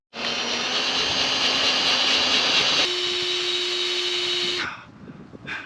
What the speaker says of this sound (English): that is the toughest screwing in metal ever